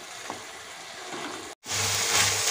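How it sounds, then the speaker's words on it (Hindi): Onion paste with ginger-garlic paste sizzles steadily in a hot pan, a close, even frying hiss that cuts out briefly and returns louder, with no talking. "हम इसमें प्याज का पेस्ट ऐड कर दिए, इसे भी हम एक मिनट तक भून लेते हैं"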